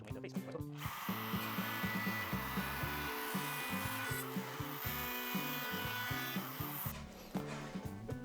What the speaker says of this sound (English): Now you just need to start cutting. We are going to go counterclockwise outside.